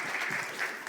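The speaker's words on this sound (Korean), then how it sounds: "이제 우리 선교사님 환영하는 마음으로 한번 박수로 영접해 주시면 감사하겠습니다" A church congregation claps to welcome a missionary, a dense burst of applause lasting under a second at moderate loudness with no voices over it.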